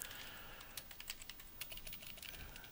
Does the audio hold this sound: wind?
no